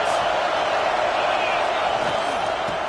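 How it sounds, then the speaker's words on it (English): A roaring stadium crowd in a college football video game makes a dense, steady wash of cheering, loud and continuous throughout. "This crowd trying to make life miserable for this offense."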